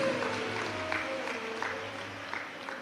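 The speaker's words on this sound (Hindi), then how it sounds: "एक बार जोरदार ताली बजाकर उनका स्वागत करिए।" An audience claps steadily to welcome a guest at a live religious gathering, a soft, continuous patter of applause heard from some distance with scattered louder claps.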